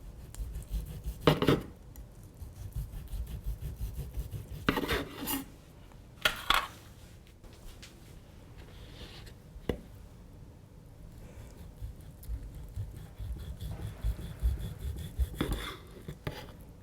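A knife slicing cooked chashu pork thinly against the grain on a board gives soft rasping strokes with a few sharper clinks, scattered irregularly at close range, with no talk.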